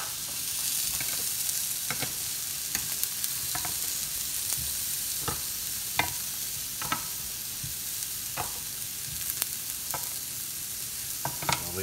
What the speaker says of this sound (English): by adding more flavour to the salad by just charring the vegetables lightly